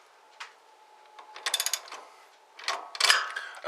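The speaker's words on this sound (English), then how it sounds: "we just finished up tightening down our clamps" Spring-loaded boost tube clamps on a Banks intercooler are being tightened. Short bursts of close ratcheting clicks come in uneven spurts, with quiet gaps between them.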